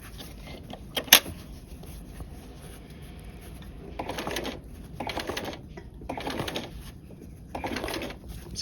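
A sewing machine stitches a row on cord trim, running in four short bursts of rapid mechanical whirring separated by pauses, after a sharp click near the start.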